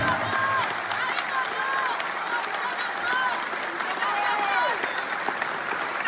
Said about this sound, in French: je vous demande de vous applaudir avec la plus grande puissance